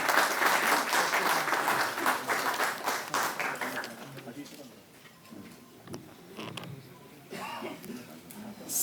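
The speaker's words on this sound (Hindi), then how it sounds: "जोरदार तालियों से आप अभिनंदन।" Audience applause greets the Delhi chief minister at a World Tourism Day app launch event, loud sustained clapping for about four seconds that fades into quieter scattered claps with some crowd noise.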